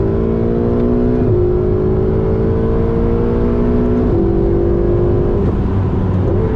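Ferrari sports car on a track in Miami, engine droning loudly and steadily from inside the car, pitch stepping through a few gear shifts without pause.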